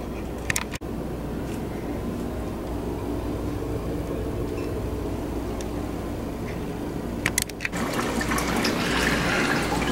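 An aquarium aerator bubbling water in a small decorated tank with a gravel beach, a steady close liquid trickle and burble that runs throughout, broken by a couple of brief sharp clicks.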